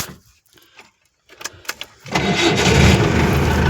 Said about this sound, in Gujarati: ગાડી ચાલુ થઈ ગઈ છે.